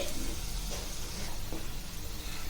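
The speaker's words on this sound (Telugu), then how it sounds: "ఇది అండి నూనెలో వేగాలి." Raw prawns frying in hot oil for a pickle, a steady, even sizzle that stays at a constant moderate level and stands alone with no talk over it.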